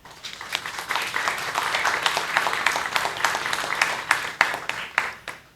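An audience at a university humanities faculty event applauds the vice dean with a steady burst of many hands clapping, building slightly and then thinning toward the end, with no talk over it.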